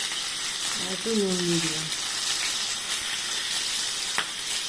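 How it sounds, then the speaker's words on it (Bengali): Pointed gourd (potol) deep-frying in plenty of hot oil, a dense continuous sizzle and hiss close by, while someone speaks briefly over it. "পটলগুলো ঢেলে দিলাম। দু ভাগে ভাজবো ছাকা তেল।"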